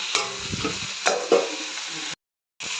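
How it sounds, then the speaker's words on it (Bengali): Cauliflower goes into spiced masala in a frying pan, giving a loud sizzle and a few sharp stirring scrapes before a brief silence near the end. "কষানো হয়ে গেছে, এবার ফুলকপিগুলো দিয়ে দেবো।"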